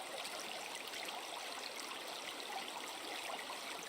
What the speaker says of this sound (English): All I hear is water.